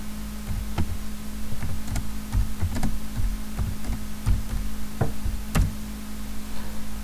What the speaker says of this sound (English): Go to Google and type what's my IP.